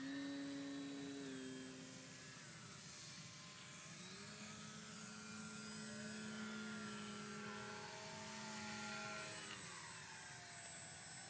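Multiplex FunCub RC model airplane flying over an RC field, its electric motor droning loud and steady with shifting whining pitch as it passes and turns.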